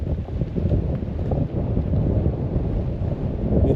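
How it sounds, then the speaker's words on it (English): Strong desert wind buffets the microphone outdoors in a steady, loud, low roar that runs unbroken through the whole stretch. "It's even windier on this side."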